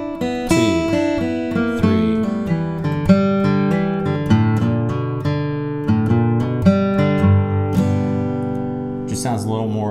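An acoustic guitar plays a bluegrass ending with picked downbeats accented, a bright run of plucked notes in steady rhythm, close and clear, finishing with a final strummed chord.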